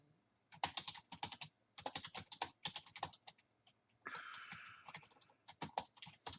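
Fingers typing text on a computer keyboard in close, quick bursts of clicky keystrokes with brief pauses, ending in a rapid flurry of key presses.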